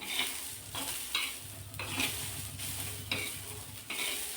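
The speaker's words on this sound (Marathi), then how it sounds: "हे कोरडेच भाजायचे आहे तेल तूप टाकायची गरज नाही" Fresh green peas dry-roasting in a pan with no oil, stirred so a soft scraping rattle repeats about once a second over a low steady hiss, close and fairly quiet with no voices.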